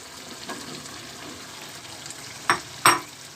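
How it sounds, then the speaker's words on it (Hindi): Taro root stir-fried in a mutton gravy, a low continuous sizzle with two sharp scraping clanks of a spoon against the pot near the end, no voices. "अरवी को ऐड करने के बाद मैं इसे 4 से 5 मिनट तक अच्छे से भूनूंगी इसी तरह से ग्रेवी में"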